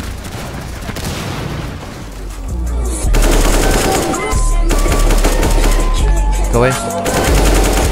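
Rapid bursts of gunfire from Rainbow Six Siege crackle loud and dense throughout, with sustained automatic fire growing heavier in the second half, mixed with game music and a brief spoken voice.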